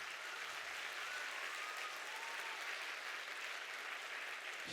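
Steady applause from an audience at a yoga institute event in Kota, a dense continuous wash of many hands clapping at even loudness, with no voices over it.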